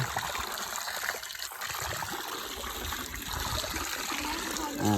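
Water from a water wheel runs and trickles steadily throughout, a continuous splashing flow close by, with a voice speaking faintly over it.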